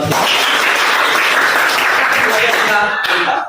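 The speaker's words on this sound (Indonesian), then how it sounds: "Tepuk tangan." A group claps steadily in loud, dense applause that fills the whole moment, then tapers off near the end.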